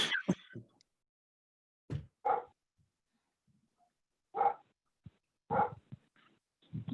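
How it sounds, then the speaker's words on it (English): A dog barks outside in a few short, separate bursts with quiet gaps between them, somewhat distant and muffled, heard over an otherwise silent background during a town council meeting. "that's my dog outside"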